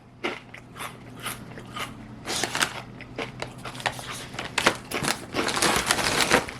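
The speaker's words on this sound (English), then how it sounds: "I like how some of the chips fold in on each other to make them even more crunchy." Close, repeated crunching of thick kettle-cooked potato chips being bitten and chewed, a rapid run of loud crisp crackles that grows busier toward the end, with no talking.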